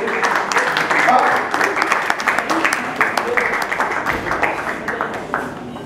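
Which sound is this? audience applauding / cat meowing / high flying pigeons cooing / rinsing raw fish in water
audience applauding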